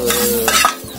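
Ingredients frying in hot oil for a family-recipe soto, a steady close sizzle with stirring and a brief clatter of utensils against the pan.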